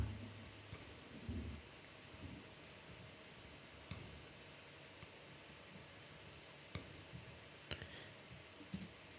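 Computer mouse clicks during a login test, a few faint, sharp, isolated clicks over a low background hiss with no speech.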